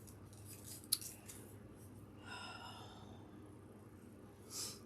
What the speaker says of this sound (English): These scissors suck, is all I'm going to say.